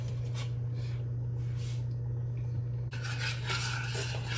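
Sliced, quartered meat goes into a skillet to render its own fat, bringing a few soft clinks and scrapes of pan and utensils over a steady low kitchen hum, with a brighter burst of clatter near the end.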